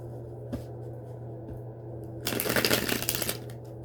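Tarot cards being shuffled, a dense papery riffling burst that rises after a quiet stretch and runs for about a second and a half, close by, over a steady low background hum.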